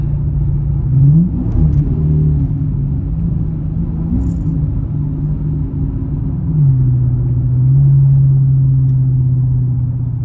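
A Hellcat's engine hums steadily from inside the car, rising twice in pitch as it revs to about 2,000 RPM and settles, with a low rumble throughout.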